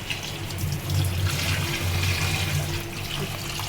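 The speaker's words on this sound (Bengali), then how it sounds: "ভালো করে মাছটাকে ধুয়ে নিব।" Tap water runs steadily into a sink while small tengra fish are rinsed, a continuous close splashing rush with slight surges and no talking.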